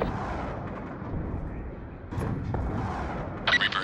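A Hellfire missile strike in the Black Ops 2 video game lands with a deep booming blast, followed by rumbling aftermath and a sharp burst at the end, under faint game radio chatter.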